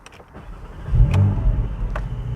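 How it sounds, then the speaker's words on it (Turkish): A Porsche Boxster GTS 4.0 with a warm engine and the sport exhaust switched off starts up close by, a brief starter whir catching into a steady, deep idle rumble. "Spor egzoz açık değilken çalıştırayım."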